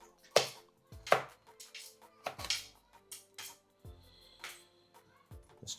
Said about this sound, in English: Let's chop them up.